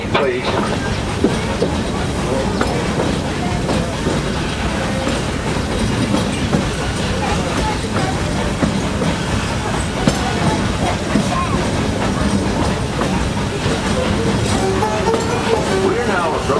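The Walt Disney World Railroad train rolls along with a continuous rumble and rhythmic clacking of wheels on track, loud and close throughout.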